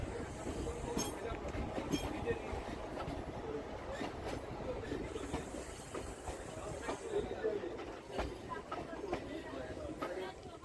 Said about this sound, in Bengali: আমাদের ট্রেনটা ঢুকছে ডানকুনি লাইনে।